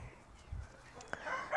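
Lohmann Brown chickens give brief, faint clucks and fowl calls, with a slightly louder burst at the very end.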